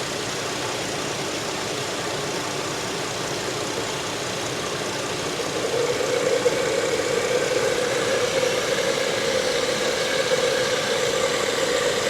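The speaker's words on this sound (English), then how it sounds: "A little bit more throttle." A Buick car engine runs steadily with the throttle opened a little more, rising into a louder, fuller drone about halfway through and holding there, near and continuous with no talk.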